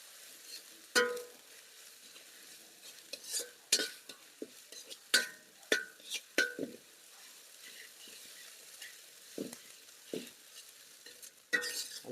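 Onions with ginger-garlic paste fry in a pan for beef gravy, a soft continuous sizzle broken by frequent loud scraping and clanking strokes of a spoon against the metal pan, with no talking.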